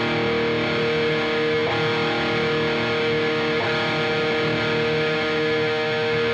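A heavily distorted electric guitar rings through a Mesa/Boogie JP-2C+ John Petrucci signature amp with its EQ bypassed, giving a sustained, saturated metal tone with a couple of soft pick attacks and no talking.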